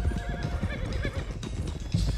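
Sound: horses trotting in Red Dead Redemption 2 video game

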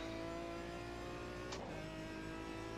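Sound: race car throttle blipping in a racing video game

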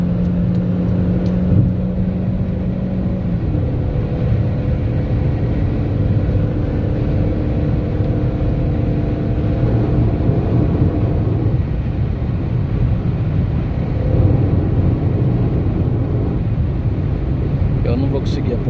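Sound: car ahead accelerating hard

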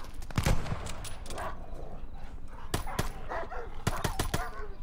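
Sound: dogs barking in the video game Call of Duty Vanguard

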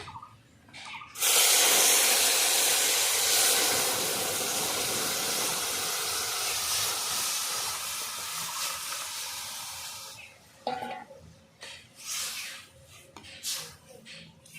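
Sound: dal added to hot pan, sizzling

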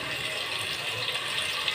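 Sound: water poured into cooking pot

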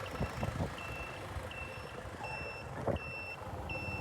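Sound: buses departing from bus station, reversing beeps

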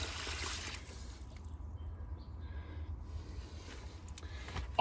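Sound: water flowing through outdoor faucet pipe

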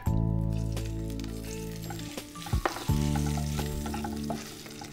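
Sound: frying in coconut oil in pan after shallow-frying mackerel

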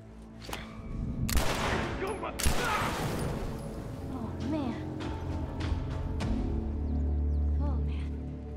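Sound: gunfire in the video game The Last of Us

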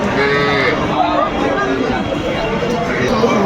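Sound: cow mooing at cattle market

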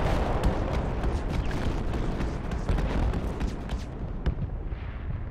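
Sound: mortar fire explosions in Project Reality video game

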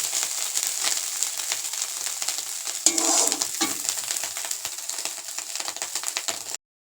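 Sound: fish frying in a pan

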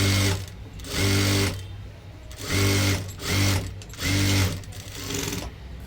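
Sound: sewing machine stitching a blouse

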